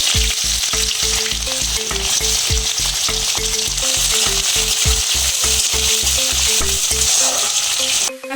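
Chopped onion fries loudly in hot mustard oil with whole cumin and bay leaves, with a dense sizzle and a regular rapid pulsing stir-scrape that repeats many times. The stirring cuts off abruptly near the end, and no voices are heard.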